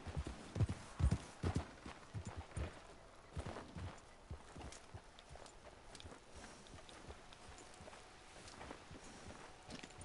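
Horse hooves clip-clop at a steady walking pace in a Red Dead Redemption 2 game scene, the hoofbeats quite close and irregular, heaviest at the start and then softening over a faint ambient background.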